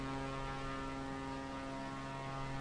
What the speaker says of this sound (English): Sounds like we're remote control aeroplanes.